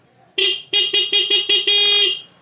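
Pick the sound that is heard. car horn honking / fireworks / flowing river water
car horn honking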